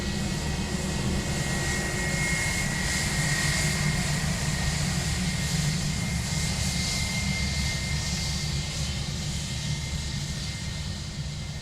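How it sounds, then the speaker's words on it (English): A British Airways airliner departs Dublin Airport for Heathrow, its jet engines making a loud, steady roar that holds throughout. "That is BA off to Heathrow."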